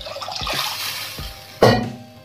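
About a cup of water is poured into a pan of sugar while making a raw mango recipe. The pour is a short splashy trickle, ending in a sharper splash near the end.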